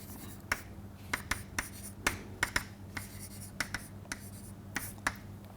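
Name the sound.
writing on a board during a lecture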